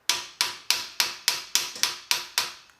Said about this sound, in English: So I'm going to take my canvas mallet or rawhide mallet